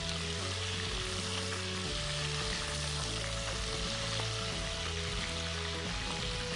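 Green chilies fry in a pan with a steady, dense sizzle and crackle that runs without a break from start to end, close and fairly loud, with no voices over it.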